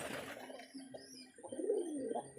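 Soft, low pigeon cooing close by on a pigeon farm, several murmuring calls in a row over a quiet background.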